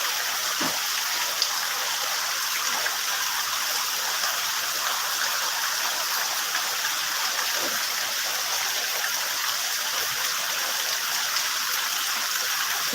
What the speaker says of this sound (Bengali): দেখেছেন প্রচুর বৃষ্টি হচ্ছে